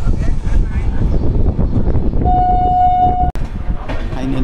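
Kulik Express passenger train pulling into Malda station: a steady rolling rumble, a long sustained horn blast partway through, then a sharp metallic clunk as the carriages keep moving.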